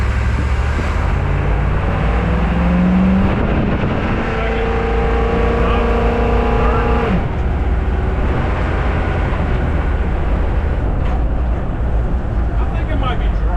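A Humvee with a transmission fault drives in first gear, its loud engine droning steadily up close with a brief rising whine, and a voice talks over it.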